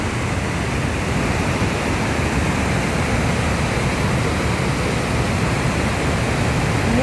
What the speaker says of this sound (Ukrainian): Масивний, масивний водоспад